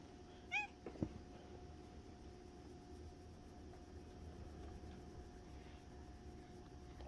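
A house cat lets out one short, faint meow indoors, followed by a couple of soft bumps, then only quiet room hum remains.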